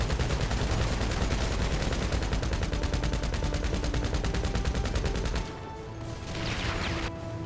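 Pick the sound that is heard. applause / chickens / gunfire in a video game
gunfire in a video game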